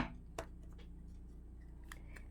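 Scissors snip leftover thread about 5 mm from the stitching on a two-strand leather bracelet made from a craft kit; one crisp close cut comes early, then a faint room hum with soft ticks.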